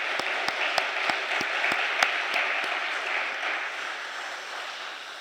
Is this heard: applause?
yes